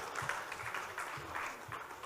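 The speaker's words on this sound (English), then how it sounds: "Can we have a big round of applause for the dignitaries on the dais?" Audience applause for dignitaries on the dais at a technical session of an accountants' annual conference, a steady wash of many hands clapping from the hall, moderately distant with no talk over it.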